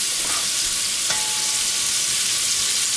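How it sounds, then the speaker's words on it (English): Beef searing in a hot pan as the first step of beef bourguignon gives a steady, even sizzle that fills the whole stretch, with one brief sharper crackle partway through and no talking. "This is just to basically sear it and trap everything inside"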